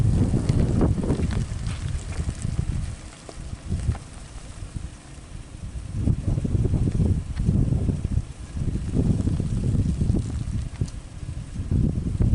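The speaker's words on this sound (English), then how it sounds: "Windy right now." Gusty wind roars against the microphone in surges, rising and falling over a constant low rumble.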